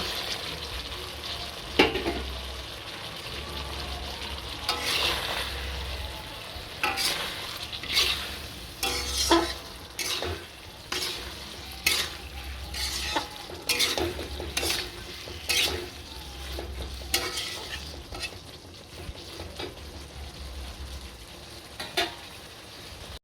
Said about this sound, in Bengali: এবার এর মধ্যে আমি ভেজে রাখা সবজিগুলো দিয়ে ভালো করে আরেকবার কষিয়ে নেব